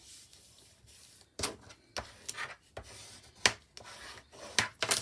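Paper being folded into an accordion fold for a double trifold makes soft, irregular creasing and rubbing sounds, with several sharper crisp swipes as the folds are pressed, close and quiet with no talking.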